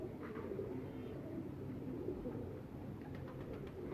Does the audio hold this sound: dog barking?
no